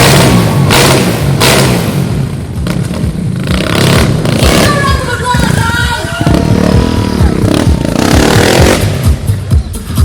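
Stunt motorcycle engine revving loudly at a Red Bull freestyle stunt show in a mall venue, with rising and falling revs and clattering bursts over crowd noise and announcer-style talk.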